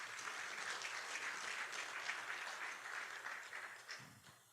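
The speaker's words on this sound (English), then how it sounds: "Give a round of applause to you guys." An audience claps together in a large room at a driver safety summit opening session, steady and moderately distant, fading slightly toward the end.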